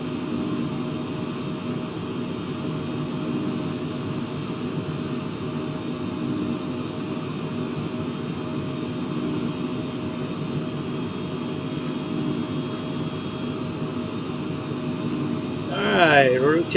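Jet engines on a fixed-wing airliner roar steadily during the takeoff roll from BIKF with flaps down, a dense, constant rumble that swells slightly near the end as a voice talks over it.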